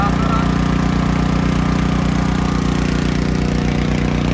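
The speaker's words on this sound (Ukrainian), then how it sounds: "зараз агрегат працює, працює агрегат від генератора" An inexpensive portable generator rated 3 kW nominal, 3.3 kW peak, runs steadily nearby while powering a MiniPower heat pump indoors, a constant loud low mechanical drone with an even hum throughout.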